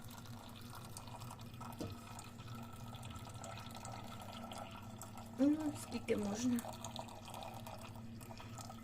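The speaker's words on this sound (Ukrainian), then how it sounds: "Я ж хочу трішки водичку цю зцідити." Water from cooked apples is poured off and drained in a home kitchen, a soft steady trickle of liquid with a few brief clinks of a pot or lid near the end, while someone speaks quietly.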